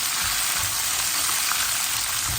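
Vegetables sizzle steadily in a hot pan, a dense crackling hiss with occasional soft pops, close up and continuous, no voices.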